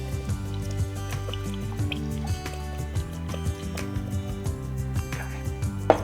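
Liquid, about 250 ml, is poured over beef while a salsa verde dish is being cooked, giving a steady stream of soft dripping and filling sounds with small splashes. Low kitchen hum and faint clinks run underneath.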